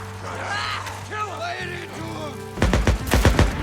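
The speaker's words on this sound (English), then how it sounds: "I heard gunshots." Gunfire in the video game Days Gone breaks out as a series of sharp, loud bursts in quick succession, following a stretch of voice and tonal game sound.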